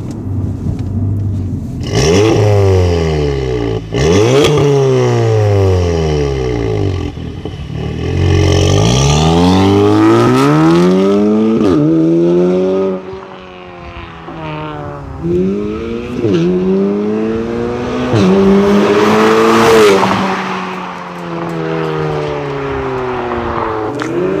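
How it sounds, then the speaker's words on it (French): A stage 2 tuned car engine revs hard and accelerates repeatedly, pitch climbing through gears, dropping and surging again, loud and close throughout. "Tu vas me faire écouter le son moteur."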